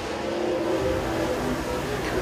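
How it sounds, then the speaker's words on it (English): Race car on a qualifying lap at Tazewell Speedway during Southern Nationals qualifying, car 1G, its engine holding a steady, sustained drone with a slight rise in revs as it passes at moderate distance. "First lap for Ryan King in 1G"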